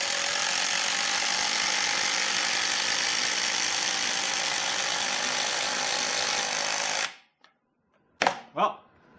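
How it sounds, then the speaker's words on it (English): A Dewalt Atomic and a Makita impact driver run side by side in a race, a loud continuous rattling hammer whir that cuts off abruptly, followed by a couple of short clicks and knocks. "We got the new ATOMIC IMPACT driver."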